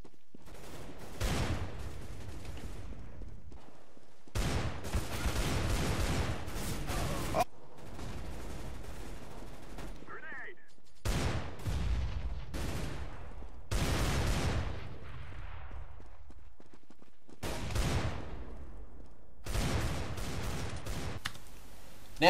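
Desert Eagle pistol shots in CS:GO ring out in separate loud, sharp bursts with brief decaying tails and pauses of a second or two between them, near and alone.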